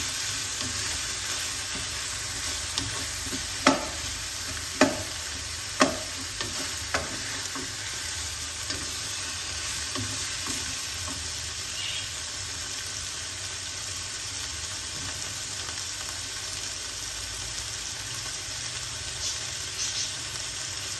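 Zucchini fries in a pan with a steady, dense sizzle that lasts throughout, broken early on by a few sharp knocks of a utensil against the pan.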